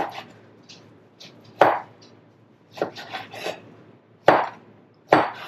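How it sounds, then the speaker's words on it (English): A knife chops through smoked beef brisket on a wooden board, a handful of sharp thuds spaced irregularly with softer scraping and rubbing between them, close and alone without talking. "I'm going to continue chopping here"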